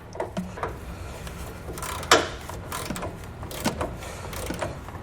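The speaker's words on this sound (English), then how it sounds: "We torque it with our Allen head, with our Allen key" An Allen key tightens the flange nuts on a Firestone Ride-Rite air helper spring bracket, making close, scattered metallic clicks and ratchety turning sounds with one sharper clank midway, over a quiet background. No voices.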